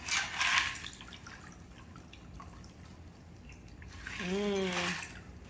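Margarita poured from a cocktail shaker into glasses, with liquid splashing and trickling in short bursts and a rising gurgle near the end, over faint background sound.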